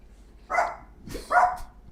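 Two short, loud dog barks a moment apart, a household greeting as kids come downstairs, with quiet room noise between them.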